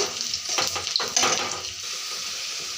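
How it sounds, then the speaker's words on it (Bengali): Onions fry in a pan with dried chillies, a soft continuous sizzle with a few brief stirring scrapes near the start. "পেঁয়াজটা লাল করে ভেজে নেব।"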